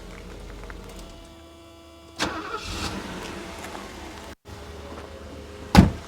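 A diesel engine in a 1980s Mercedes-Benz 380 SL cranks and catches without glow-plug preheating, then settles into a smooth low idle, with a sharp thump near the end.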